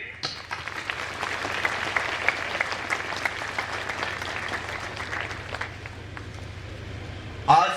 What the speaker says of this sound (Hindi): हम ताली बजाएंगे।